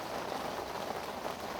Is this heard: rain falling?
yes